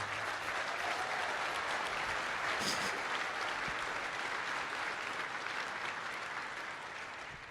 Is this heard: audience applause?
yes